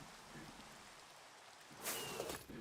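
Rain falls outside as a soft, steady hiss, faint and distant, with a brief brighter splash of drops near the end; no one speaks.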